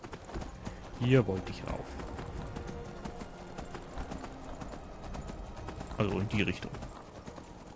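A horse in Skyrim walks with soft clip-clopping hooves under steady ambient noise, two louder bursts breaking through, while someone talks over it.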